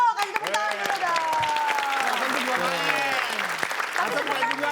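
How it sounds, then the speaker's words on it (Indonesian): Applause from a studio audience at an Indonesian TV variety show, dense clapping that runs steadily throughout, mixed with music and a host's voice over it. "kasih tepuk tangan dulu dong"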